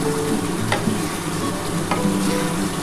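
Spices sauté in hot oil for a duck egg curry, giving a steady close sizzle and fry with a couple of light scrapes of stirring, no voices.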